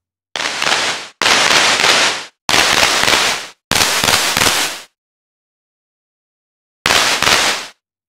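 Synthesized handclap from a CL4P Maker module with drive blending impulses and noise bursts: five harsh, gritty noise blasts of about a second each, loud and abrupt, with gaps between and a longer pause before the last.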